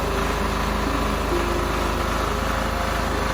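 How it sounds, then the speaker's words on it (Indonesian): A rice milling machine engine runs with a steady, dense drone and a constant high buzz, close and unbroken throughout. "Deru mesin penggiling padi terdengar seperti menggeram-geram marah."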